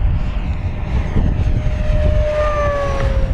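An FMS Corsair 1700mm V3 RC model airplane on 8S power roars steadily at full throttle, the loud electric motor and propeller whine rising in pitch as it passes overhead outdoors.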